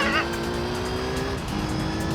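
Sustained engine drone of a Vauxhall Corsa RGT 1.9 TDI diesel racing in Gran Turismo 3: A-Spec, with a brief tyre squeal at the start and a steady, loud whine throughout.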